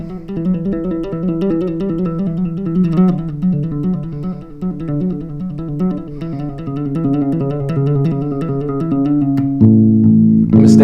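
Fast hammer-on and pull-off fretting exercise played on a bass guitar, a steady stream of quick, connected notes at close range with no talking, ending in a sustained louder note.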